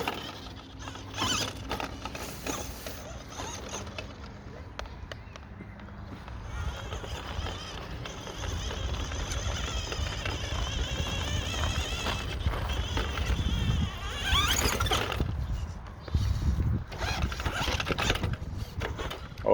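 A Tamiya Lunchbox RC car with its stock silver can motor and LiPo battery drives over a surface outdoors, a whirring motor with scuffs and patters of tires close by, growing rougher toward the end.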